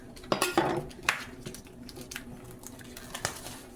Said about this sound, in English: This is the Bob Evans maple. And I'm just gonna cut that.